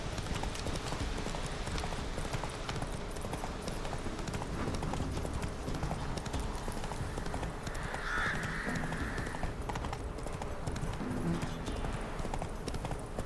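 Roach, the horse in The Witcher 3: Wild Hunt, gallops in steady clip-clop hoofbeats for the whole stretch. A brief whinny-like cry rises partway through, all over a constant outdoor game ambience.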